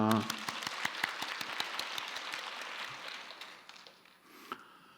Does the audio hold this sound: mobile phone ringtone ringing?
no